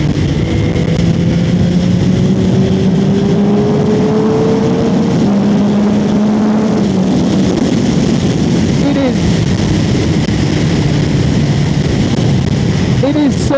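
A Yamaha R9 motorcycle rides fast on the road, its engine note rising and shifting under heavy, constant wind roar across the whole stretch.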